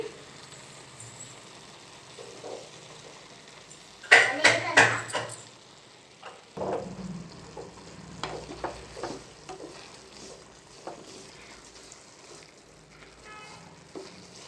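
Carrot halwa with sugar is stirred in a pan on the stove. A spoon scrapes and clatters against the metal in a few sharp strokes, followed by softer stirring over a low simmering sizzle, close up.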